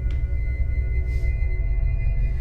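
Radio scanning static, a steady hiss of white noise like the gap between stations, continuous and fairly loud with a low hum beneath and a few brief sweeping blips.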